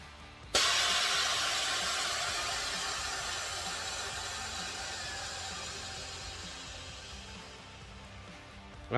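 Air ride suspension on the front of a flat top Peterbilt truck lets out a sudden loud, sustained hiss of air that slowly fades over several seconds, close by with no talk.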